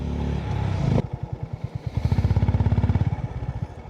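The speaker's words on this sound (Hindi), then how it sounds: "फुल थ्रॉटल दे रखा है मैंने सेकंड गियर पे, तो भी बाइक की स्पीड 45 पे लिमिटेड सेट है" Motorcycle engine held at full throttle in second gear on a speed-limited bike, a loud, steady throbbing of rapid regular pulses after a brief rough burst at the start, with no speech.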